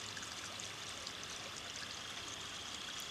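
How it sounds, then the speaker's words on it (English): Moore's Run, a river in a Baltimore park lined with a riparian buffer, flows with a steady, even rushing murmur that stays soft and constant throughout. "Moore's Run Park is a beautiful mile-long stretch of the river."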